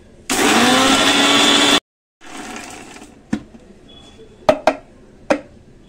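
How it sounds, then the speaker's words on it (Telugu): Electric mixer grinder whirring through sesame, cumin and fenugreek seeds: a loud, steady motor roar for about a second and a half, a quieter second pulse, then a few sharp clatters of the jar and lid. "ఈలోపు మనం ఇవి మిక్సీ పట్టేసుకుందాము"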